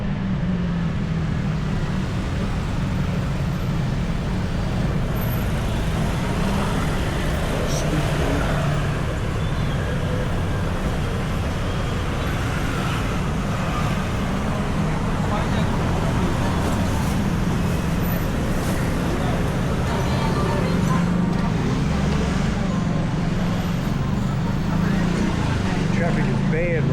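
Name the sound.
road traffic in Bangkok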